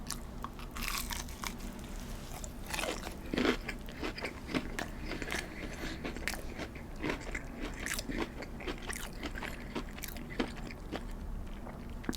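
Close-up mukbang chewing of Wingstop chicken tenders with Cajun corn, with steady crunchy bites, wet mastication and small scraping sounds repeating throughout, and no talking.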